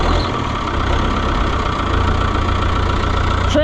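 A diesel engine on an Oliver 1365 tractor runs at a loud, steady, rough idle with a low knocking rumble, close by and with no voices.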